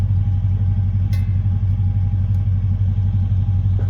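A car engine idles steadily with a deep, mellow, not-too-loud exhaust note, a constant low rumble close by with no talking.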